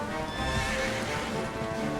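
A horse in the role-playing game Dragon Quest XI whinnies loudly and close, the neigh blending with clip-clop hoofbeats over a short two-second stretch with no talking.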